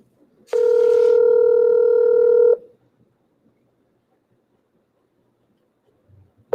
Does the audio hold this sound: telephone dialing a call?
yes